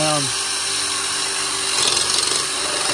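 A power drill whines steadily as it bores into material, with a sharper grinding surge near the end; a voice speaks over it.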